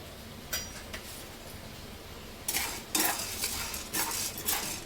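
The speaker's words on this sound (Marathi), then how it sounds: "1 वाटी हरभऱ्याची डाळ भाजून घ्यायची आहे." A cup of chana dal (split chickpeas) is dry-roasted in a pan on low flame, with a spoon scraping and clinking against the metal in a few quiet, close strokes that grow busier toward the end.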